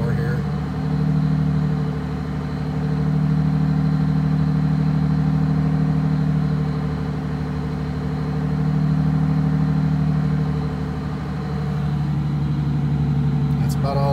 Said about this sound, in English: I'll go ahead and bring the idle up a little bit more here.